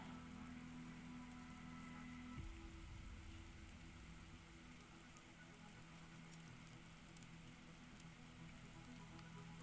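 Rain falls steadily in The Planet Crafter video game, a constant soft hiss of patter on surfaces that carries on evenly, with a low hum beneath that shifts early on.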